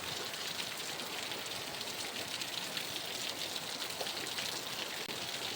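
Heavy rain falls steadily outdoors as a dense, even hiss with no pauses, fairly quiet and close, with no voices.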